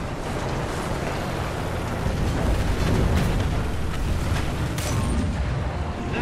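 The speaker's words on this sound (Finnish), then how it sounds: "Äkkiä pois alta, sieltä tuli pommia niskaan." Bombs exploding around a T-34-57 tank in War Thunder, a dense continuous roar of blasts and rumbling debris, loud and close with crackling bursts layered over a heavy low rumble.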